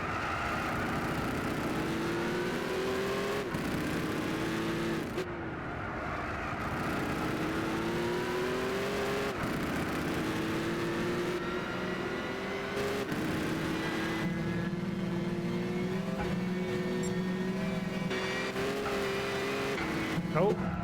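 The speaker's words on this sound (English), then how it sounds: "this car sounds loud and mean" A loud race car engine in the video game Gran Turismo 6 drones steadily for about twenty seconds, its pitch rising and falling through gear changes, while someone talks over it.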